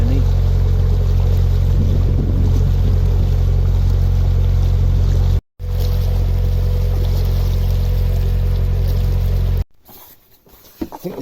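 A narrowboat engine chugs steadily at low revs on the Chesterfield Canal, a loud, deep continuous drone with water noise, cutting out briefly midway and dropping away near the end.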